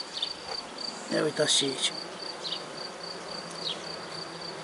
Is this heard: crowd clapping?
no